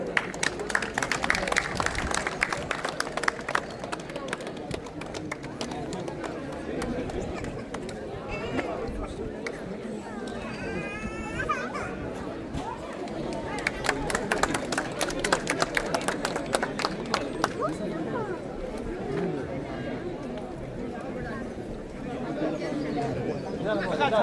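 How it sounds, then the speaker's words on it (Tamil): A crowd at a Hindu temple chariot festival in Wuppertal, Germany, breaks into bursts of applause over steady chatter and talk, with the clapping strongest near the start and again midway. "அவர்களுக்கு உங்கள் கரகோஷங்கள்"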